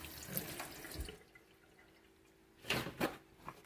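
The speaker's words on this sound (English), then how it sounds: "Let me rinse my hand off" Hands rinsed under a running kitchen tap while making vegan jackfruit tacos and feta pasta, with a soft splash at the start and a louder burst of flowing water near the end, close and unaccompanied by talk.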